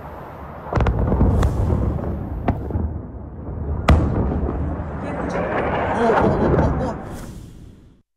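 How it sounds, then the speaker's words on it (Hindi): Heavy bomb blasts in western Tehran come as several loud, sharp booms over a rumbling, noisy background, with a few distinct impacts spaced across the stretch before it fades out. "तेहरान के मगरिब में मुसलसल शदीद धमाकों की आवाज़ें सुनी गई हैं।"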